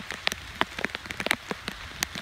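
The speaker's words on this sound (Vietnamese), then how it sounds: "Mưa quá trời mưa luôn." Raindrops strike a surface during a storm, a patter of scattered close taps with uneven rhythm over a faint background rush, no voices.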